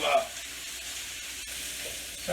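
Ground beef sizzles and crackles steadily in a pan as it browns, a soft continuous hiss with faint stirring scrapes and brief louder bursts at the start and end.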